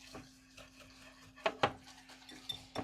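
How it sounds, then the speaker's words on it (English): Whisk knocking faintly inside a bowl of dark chocolate brownie batter, with soft scrapes and a few sharper taps and clinks against the sides. "Now we're gonna mix this up. I'm gonna start with the whisk already."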